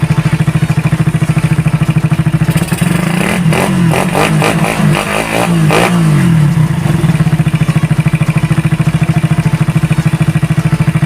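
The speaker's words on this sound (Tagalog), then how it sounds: "Yan o, mapapansin nyo, maganda pa rin yung idle nya." A Suzuki Raider 150 motorcycle engine fitted with a Keihin carburetor idles with a loud, rapid, steady pulse, then revs up in a few sharp clattering bursts before settling back to idle.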